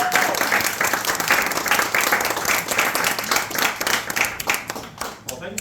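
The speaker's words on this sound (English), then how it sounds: "let's have a great big round of applause for John Gilmore" An audience in a magic shop gives a warm round of applause for a blind magician, dense steady clapping from many hands at close range, thinning slightly toward the end.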